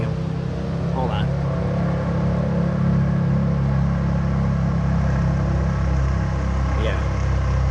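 Road traffic passing outside a home, a continuous low rumble of engines and tires, steady and fairly loud, with a couple of faint higher whines drifting through.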